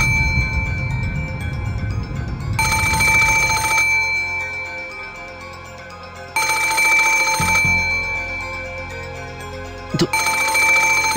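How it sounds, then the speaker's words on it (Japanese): A telephone rings in the video game Umineko no Naku Koro ni, sounding in repeated electronic bursts separated by short pauses, clear and steady over a faint low background tone. "マリアちゃんたちからの緊急の電話の可能性もある"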